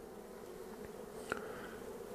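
Honeybees of a young colony buzz faintly over a hive brood frame, a soft steady insect hum throughout with one brief louder tap near the middle.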